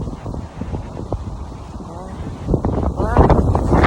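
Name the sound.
strong wind blowing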